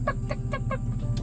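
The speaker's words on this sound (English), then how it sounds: "she's clucking like she's broody. You know how like a broody hen sounds." A broody farm hen clucks in a steady run of about five short, close calls, rhythmic and evenly spaced over a low background hum.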